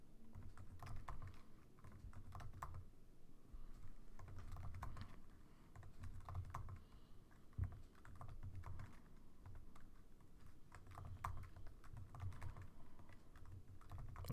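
Quiet, rapid tapping on a computer keyboard, with irregular bursts of key presses separated by short pauses, close and alone without speech.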